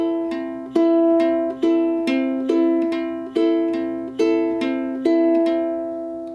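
Ukulele fingerpicked in a song's pattern near full tempo, a brisker flow of plucked notes in repeating cycles, each chord ringing and overlapping, bright and close with no talking.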